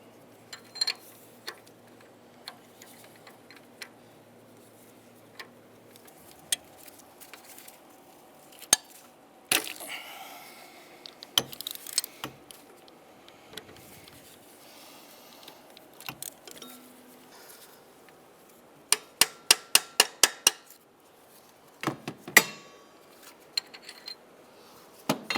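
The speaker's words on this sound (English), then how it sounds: "So we have here for access an offset oxygen sensor socket and a swivel with an extension." An offset oxygen sensor socket on a swivel and extension works loose the upstream O2 sensor on a 2007-2015 Mazda CX-9, giving faint metallic clicks, clinks and a run of quick ratchet ticks in a quiet garage.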